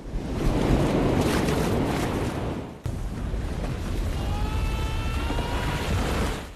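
Large ocean waves surge and crash toward an island shore in a steady roaring wash, loud and close with wind noise, and a brief break midway.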